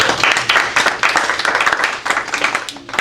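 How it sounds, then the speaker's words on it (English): Loud, dense applause from a seated audience at a Toastmasters speech evaluation session, steady crackling handclaps filling all three seconds with slight swells and dips and no talking. "So how about a nice round of applause for our C's over here?"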